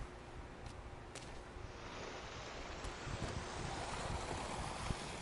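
Ocean waves in the survival video game The Forest: a continuous, broad wash of surf with wind noise, steady and fairly loud, slowly swelling toward the end with no talk over it.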